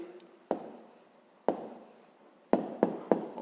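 A pen writes an answer by hand on paper for a 5th-grade math exercise, giving a series of tapping strokes and soft scratching, several distinct taps spaced irregularly, close and quiet with no talk.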